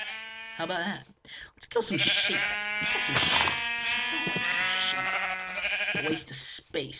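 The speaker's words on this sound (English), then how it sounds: "Let's kill some sheep." Sheep bleat repeatedly in the Minecraft video game, with several loud, wavering cries layered close together and someone talking over them.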